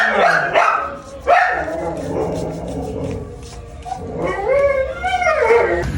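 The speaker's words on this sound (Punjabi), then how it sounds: "ਇਹ ਜੀ ਅਹਿਮਦ ਦਾ ਬਘਿਆੜੀ ਡੌਗ" A wolf-like dog barks loudly up close, mixing sharp barks with whimpering, yipping and a rising howl-like whine, with a brief voice in the background.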